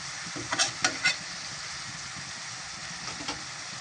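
Onions softening as they fry in a pan, with a soft steady sizzle under a few sharp scraping stirs of a spoon near the start and one more later, with no talk.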